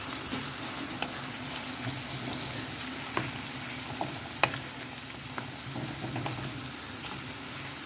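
Scrambled egg with spices being slowly stirred in a pan, a soft continuous crackling sizzle with faint scattered scrapes and a couple of light clicks, quiet and even, no talk.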